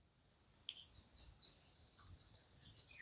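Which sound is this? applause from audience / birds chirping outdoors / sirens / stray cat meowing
birds chirping outdoors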